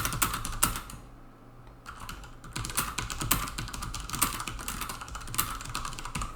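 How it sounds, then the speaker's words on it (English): Rapid clicky keystrokes on a mechanical ergonomic keyboard in bursts, with a brief pause near the start, close and clear with no talking. "The keys don't have the best sound and they're a little wiggly"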